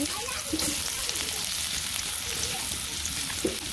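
Onions and chillies frying for bitter gourd, a dense close sizzle of hot oil throughout, with a few light stirring touches and faint voices underneath.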